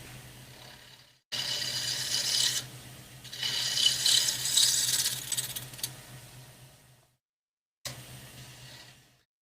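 A wood lathe spins a mounted double-sided medallion at 1200 RPM, giving a steady low motor hum under bursts of hissing, scraping cut noise. The sound drops out briefly, then resumes with more scraping. No one speaks.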